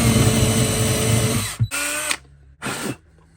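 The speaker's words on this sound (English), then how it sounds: "Piece of wood, drill." A power drill whines at full speed into a piece of wood, stops, then runs in two more short bursts with quiet gaps between.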